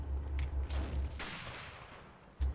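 Friendly machine gun fire in the WW2 Online video game: a rapid run of low, heavy shots for about a second, then a decaying echo and one more loud burst near the end, with no talking.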